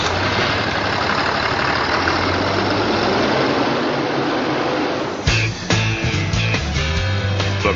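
A Cummins diesel in a Freightliner truck chassis idles in a steady, loud, close rumble, then a burst of irregular clatter and knocking sets in near the end.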